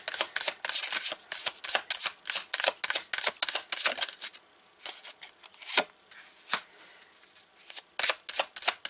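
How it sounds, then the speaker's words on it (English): Spirit Song tarot cards being shuffled close up: rapid crisp riffling flicks in quick bursts, then slower scattered slaps and shuffles with short pauses, no voice. "I'm going to pull 3 cards for you."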